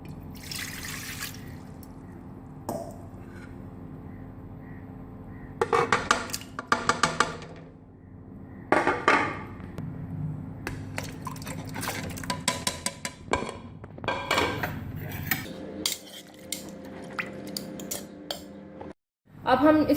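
Water, ginger garlic paste and beef go into a pressure cooker, heard as clattering spoon and metal-pot knocks, splashes and pouring trickles in separate bursts, moderately close.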